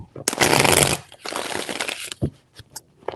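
A deck of tarot cards is shuffled in two loud, dense riffling bursts close by, the first sharper and brighter, followed by a few scattered taps and soft handling noises.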